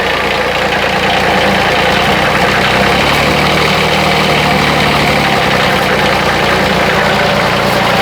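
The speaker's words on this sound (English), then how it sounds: "you can hear a little bit of metallic noise, and that's the muffler, the tailpipe hitting the frame" A Kubota diesel engine idles in a Bobcat 371 loader, a loud, close, steady low rumble with a faint metallic rattle from the tailpipe knocking against the frame, running alone without pause.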